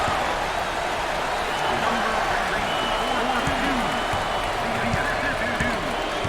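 Arena crowd in a college basketball video game, Illinois against Iowa, chanting in a steady rhythmic roar that holds without pause throughout, loud and continuous.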